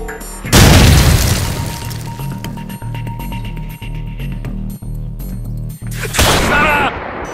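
A grenade blast inside a real-life GoldenEye 007 reenactment: a loud boom opens, followed by a rhythmic run of heavy thumps and pops, then a second loud burst near the end.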